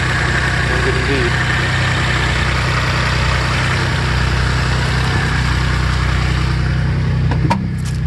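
A Maserati Biturbo 430 engine idling close by with a steady low throb and an even hum, ending with a couple of brief knocks or clicks.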